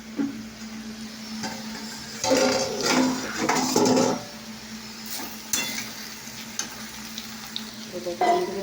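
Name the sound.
potatoes frying in a pan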